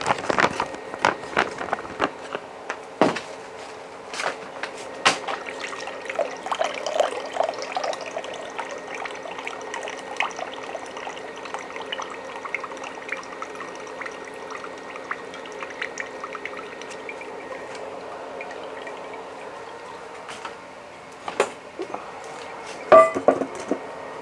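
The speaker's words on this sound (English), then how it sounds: "This is the drain off the excess water." Water pours and trickles steadily from soaked rice through a colander, a continuous splashing drain with a few clatters near the start and end.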